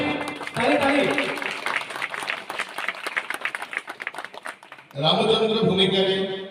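Applause from a crowd at an outdoor village Ram Natak theatre event in Odisha, bursts of clapping that rise, thin out into scattered claps, then swell again near the end, with someone talking over it.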